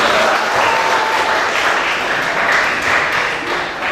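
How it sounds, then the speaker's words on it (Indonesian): Steady, dense applause from a school assembly crowd at SMA Negeri 3 Kuningan, sustained and loud throughout, with faint voices mixed in. "Tepuk tangan buat SMA Negeri 3 Kuningan."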